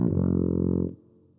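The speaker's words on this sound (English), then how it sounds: "You found the tuba." A low brass tuba note from the Lamb Chop Loves Music PC game, one sustained, rich and steady tone lasting under a second before cutting off, with no talk over it.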